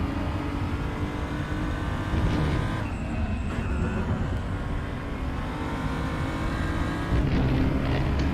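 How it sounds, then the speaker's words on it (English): A race car engine heard from onboard during a sim racing event at Sepang South, droning loud and steady at high revs with slight shifts in pitch, alone with no talk. "we are now in the car of Ben Davis."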